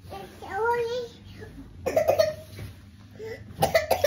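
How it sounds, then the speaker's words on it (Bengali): A young child at home coughing several times in short bursts while chanting, with other voices talking nearby between the coughs. "হরে হরে করতে গিয়ে কাশি উঠে গেছে"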